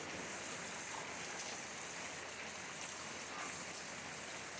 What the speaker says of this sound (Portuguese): Bastante chuva, gente.